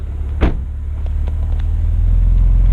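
Deep, steady low exhaust rumble from a 2018 BMW M4 Competition idling, close by, with a brief higher whoosh early on and the rumble growing slightly louder.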